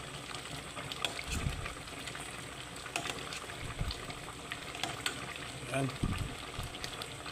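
Tulingan tuna simmering in coconut milk with eggplant and string beans, a soft bubbling and watery burble under a person speaking, with a few low thumps.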